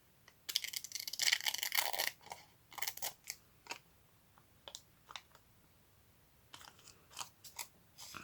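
Scissors snip through fabric during a sewing project, a burst of rapid crisp cuts followed by scattered single snips, close and fairly quiet.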